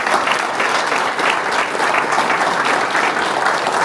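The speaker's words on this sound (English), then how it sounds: "Let's give Lee a round of applause." An audience at a police department promotions and new hire ceremony gives a steady, dense round of applause for a former police chief, sustained for the whole stretch with no voices over it.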